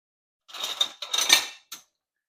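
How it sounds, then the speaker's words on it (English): Metal tongs toss pasta with spinach, lemon juice and zest in a pan, giving a few short scraping, clinking bursts close up with brief pauses between them. "We're going to use some tongs to mix that in there."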